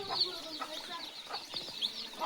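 A mother hen and her young chicks cluck and cheep softly while drinking water on a farm, with scattered short calls and high peeping, faint and close.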